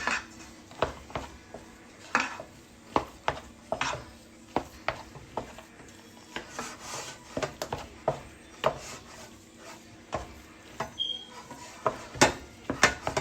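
Butter is stirred into shepherd's pie ingredients in a pot, producing repeated scraping and clanking of a utensil against the pot in an irregular rhythm, fairly quiet and close.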